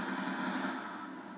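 A PDW fires in Black Ops 2 Zombies on the Die Rise map: sustained rapid automatic gunfire, a dense unbroken rattle that eases slightly toward the end.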